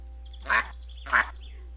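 Ducks in the Tiny Glade video game give two distinct quacks about half a second apart, clear and close against a quiet background.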